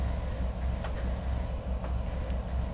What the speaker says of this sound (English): Got Magnum PI driving my train.